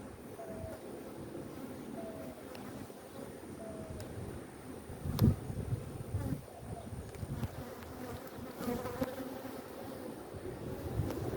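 Dense, steady buzzing of many honeybees around an open hive close by, a continuous droning hum with occasional louder bumps and rustles.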